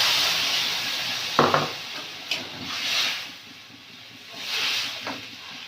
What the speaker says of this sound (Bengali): আলুটা কষে নিয়েছি, এবারে জল দিয়ে দিই